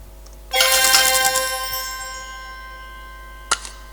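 A video game reward chime for collecting an Epic Orb: a bright shimmering ringtone-like burst that swells, then rings out and slowly decays, with a brief faint ding near the end, heard alone.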